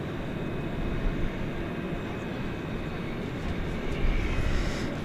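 A jet airliner taxiing across a bridge to the east side of DFW airport at night, heard as a steady, broad engine rumble with a faint whine, swelling slightly near the end.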